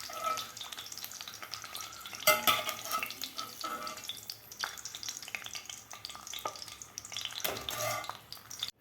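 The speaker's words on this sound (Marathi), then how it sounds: "अंडेसुद्धा थोडेसे आपले फ्राय झालेले आहेत" Eggs frying in oil in a kadai, a faint steady sizzle with occasional louder crackles and spatula scrapes against the pan, no talking.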